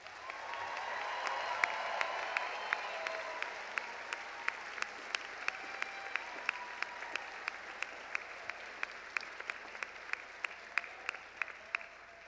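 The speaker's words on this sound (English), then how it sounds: "let's give our graduates one final round of applause" Sustained audience applause for graduates at the SIUE spring commencement ceremony, a steady wash of clapping from a large crowd in a hall, with sharp individual claps standing out throughout the twelve seconds.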